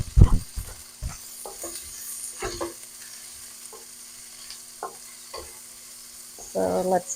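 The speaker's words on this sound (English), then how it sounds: "So let's just saute for until it becomes light brown." Onion, ginger and green chili sautéing in a pan for poori potato curry, with scattered stirring scrapes and light sizzle, a louder burst of frying near the end.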